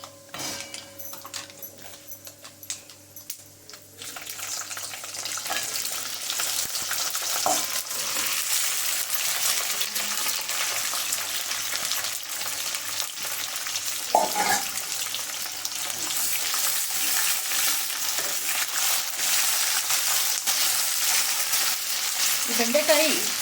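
Cut okra drops into hot oil in a pan and bursts into a loud, steady sizzle that continues for a long stretch, with occasional scraping and stirring strokes audible over the frying.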